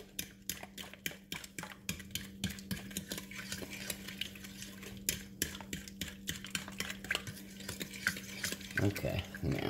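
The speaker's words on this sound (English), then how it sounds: "As soon as I get this mixed up." Spoon stirring cookie batter with melted butter in a bowl for Christmas cookies, quick repeated scraping clicks in an uneven rhythm, close and fairly quiet over a low steady hum.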